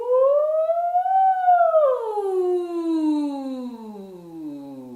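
A high falsetto voice imitates a siren, sliding up, holding, then gliding down in a long smooth wail, close and clear with no other sounds.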